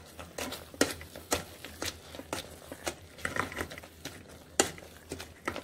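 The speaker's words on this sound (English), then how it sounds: "So we want to like mash it up really well to make a smooth" A masher presses into a pot of cooked tomatoes, onions and peas for pav bhaji, giving soft irregular squelching thuds and patters, close and fairly quiet, with no voices.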